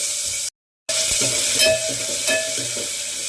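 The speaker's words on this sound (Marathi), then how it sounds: "एक कांदा घेतलाय एक टोमॅटो आणि थोडा कढीपत्ता तेलामध्ये चांगलं मारून घेऊ" Onion, tomato and curry leaves sizzle loudly in hot oil, a steady frying hiss broken by a brief silent gap, with scattered stirring clinks and crackles throughout.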